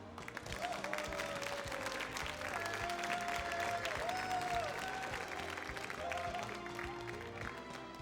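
An audience at a Super Smash Bros. Melee tournament top 8 claps and cheers in sustained, dense applause, with a crowd murmur and occasional whoops underneath, steady and fairly distant throughout.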